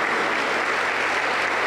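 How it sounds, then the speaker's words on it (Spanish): A Pentecostal church congregation claps steadily and densely at moderate volume. The applause is continuous and fills the room, with no voices above it. "Fuerte aplauso para Cristo Jesús."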